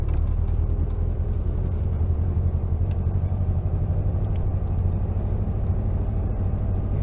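A 1956 VW Beetle with a stock shifter and swapped engine drives along, its steady low engine rumble and road noise constant and close throughout, with no talk.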